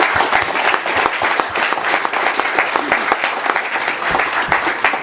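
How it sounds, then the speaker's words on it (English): Golfers and guests at a golf event applaud one another, a loud close burst of many hands clapping steadily throughout with no speech. "let's give each other a round of applause"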